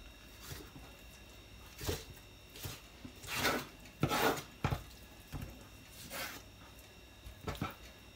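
Irregular knife chops on a cutting board, a dozen or so separate strikes at uneven intervals, close and fairly crisp, while chopping ingredients for duck larb.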